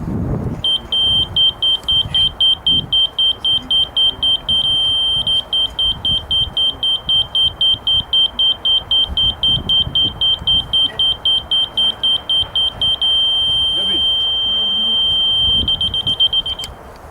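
A laser level receiver beeps rapidly and high-pitched, repeating steadily for the whole stretch, loud and insistent, with faint background noise beneath.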